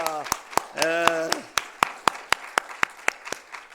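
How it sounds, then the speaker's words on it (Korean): A church congregation claps in a steady, even rhythm, the sharp claps ringing out close and loud after a brief stretch of voice at the start. "우리 하나님께 영광의 박수 한번 올려드립시다"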